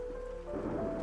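Steady rain falls as a soft ambient bed under a calm night-time sleep story, an even wash of drops holding without break for about a second.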